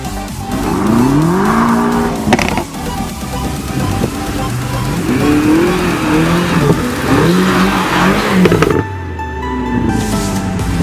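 A BMW with over 600 horsepower accelerates hard, its engine rising and falling in pitch through gear changes with tire noise, loud and close throughout.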